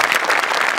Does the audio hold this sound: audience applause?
yes